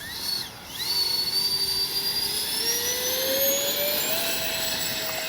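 A Freewing 80mm A-10 Thunderbolt V2 radio-controlled jet spools up for takeoff with flaps set, its ducted-fan engines giving a loud, sustained whine that climbs steadily in pitch under a broad rushing roar.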